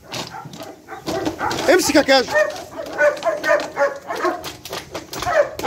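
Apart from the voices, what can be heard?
dog Kaju barking during grip training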